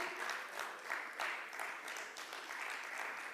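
Crowd applause fills the room at the unveiling of the Mumbai Warriors futsal team with Tiger Shroff, many people clapping continuously in a thick, pulsing roar of hands that holds steady throughout.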